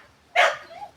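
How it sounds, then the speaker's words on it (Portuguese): A single sharp bark from street dogs passing by outside rings out once, moderately close, followed by a short fainter trailing yelp in otherwise quiet surroundings. "O cachorro tá aqui gritando, é os cachorros da rua que tá passando, gente."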